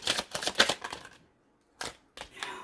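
A deck of tarot cards being shuffled close up in several quick riffling bursts, then a silent gap before two shorter shuffles, with no talk.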